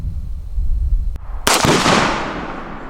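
Sharp broadband gunshot blasts fired at a target outdoors, one faint crack then a loud report around the middle followed by a long fading ring and echo.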